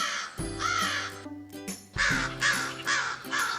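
A crow caws repeatedly in loud, harsh calls close by, several rasping caws in quick succession with a short gap in the middle, alone without talk.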